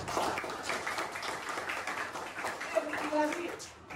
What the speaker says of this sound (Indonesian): Oke, tepuk tangan untuk yang benar.